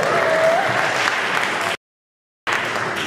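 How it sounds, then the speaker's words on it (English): Audience applause at a Portland jazz concert, a steady wash of clapping from a crowd that breaks off abruptly into silence before resuming, with a faint tone briefly heard early on. "She might be on the live stream, you might want to clap."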